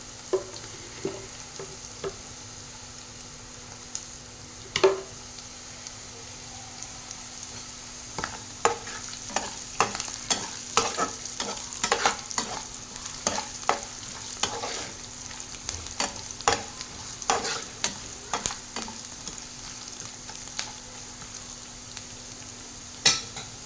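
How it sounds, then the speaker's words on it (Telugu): Onions frying in a pan for an ivy gourd fry: a quiet, steady sizzle close by, punctuated by many sharp spatula scrapes and taps against the pan. "ఆనియన్స్ ఫ్రై అయిపోయాయి."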